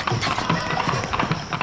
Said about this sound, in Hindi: हीरो घोड़े पर आ रहा है